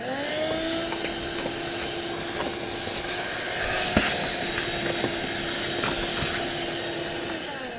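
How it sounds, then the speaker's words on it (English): A vacuum cleaner runs with a steady, loud whine, sucking dust out of a box of rocks, with a few brief clatters and knocks as the nozzle moves around inside. "I'm going to vacuum this box of rocks out real quick"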